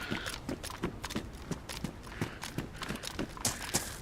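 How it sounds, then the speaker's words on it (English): Footsteps on wooden floorboards inside a building in the survival game DayZ, a steady run of soft, evenly spaced thuds moving through the room at moderate distance, with no talk over them. "Did I hear footsteps on floorboards then?"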